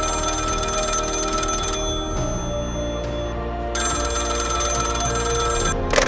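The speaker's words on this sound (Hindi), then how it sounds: "तकरीबन 7 बजे टेलीफोन की घंटी बजी।" A telephone bell rings loudly in two long bursts separated by a short, quieter pause, with the ringing resuming sharply after the gap and no voices.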